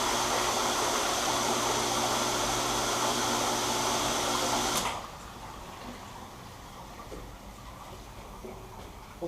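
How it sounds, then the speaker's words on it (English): A water pump hums steadily on a water transfer printing tank with a broadband whooshing drone for about five seconds, then shuts off abruptly, leaving a quieter low background. "now I'm going to turn the pump on"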